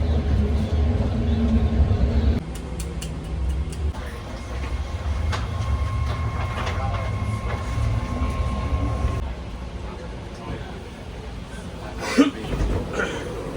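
A San Francisco red line train at Montgomery Street station, its steady low rumble and rolling wheel noise filling the platform, with a sustained tone and brief squeals over the din.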